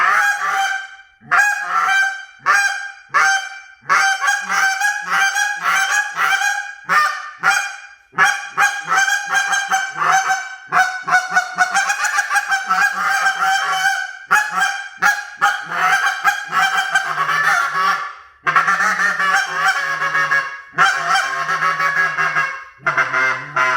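An LXC Canada goose call is blown by hand to mimic geese coming in to land, with a long run of loud rhythmic honks and clucks, fast and choppy, close and alone with no talk.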